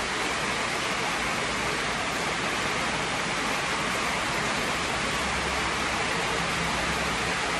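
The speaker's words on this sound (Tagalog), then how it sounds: "Pakinggan nyo ang lakas ng ulan." Heavy rain pours down in a dense, steady roar that is loud and unbroken from start to finish, with no voices over it.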